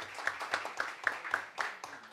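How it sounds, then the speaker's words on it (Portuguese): Audience at a public hearing of an economics and finance committee clapping, a small group producing distinct, evenly spaced claps at a moderate, close level. "Uma salva de palmas para o Léo aí"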